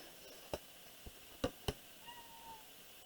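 An indoor house cat meows a few times in short, separated calls, faint against a quiet room, with a couple of brief taps in between and no talk.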